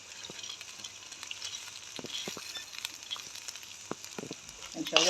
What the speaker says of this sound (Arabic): هنشوحه برضو مع المكرونه